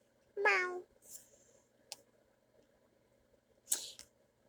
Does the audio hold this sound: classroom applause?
no